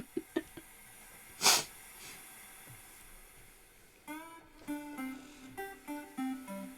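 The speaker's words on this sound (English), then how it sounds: "I'm not sick, I'm just really leaky, so I apologize for all the sniffling and sneezing." Several short nasal sniffs and a sharp snort-like burst, followed by a series of quick breathy sniffles with no talking.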